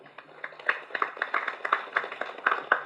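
Audience applause at a film thanks-meet celebration: a small crowd of hands clapping in a loose, steady patter, fairly faint and distant, with no voices over it.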